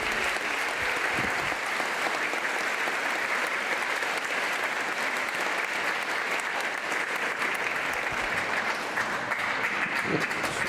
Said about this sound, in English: Give yourselves a very big round of applause, guys.